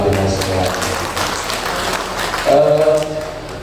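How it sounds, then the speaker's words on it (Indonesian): An audience of teachers in Magelang claps together at a best-practice sharing session, a steady patter of applause heard beneath someone speaking over it. "Bagi tepuk tangan untuk panjenengan semua."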